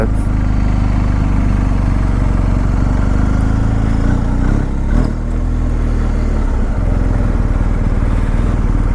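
A 2019 BMW R1250GS HP motorcycle being ridden, its engine droning loud and steady close by with a brief dip in revs partway through.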